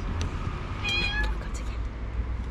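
A street cat in Istanbul gives a short, clear meow at close range amid quiet outdoor background noise, with brief murmurs of people nearby.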